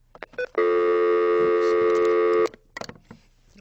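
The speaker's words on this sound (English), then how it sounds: "Hold on, let me take this phone call." An incoming telephone call rings as a single steady electronic tone, lasting about two seconds, loud and close. Faint clicks and shuffling come before and after it.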